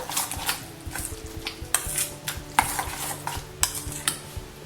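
Tzatziki with salt is stirred briskly in a bowl, a spoon clicking and scraping in a quick, steady rhythm with louder taps every second or so, close and with no voices.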